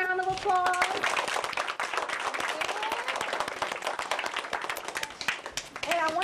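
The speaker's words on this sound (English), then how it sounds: "Give yourselves a round of applause." A small live audience, including children, breaks into lively applause with crisp close hand claps; brief speech and a rising voice are heard at the start and end around the clapping.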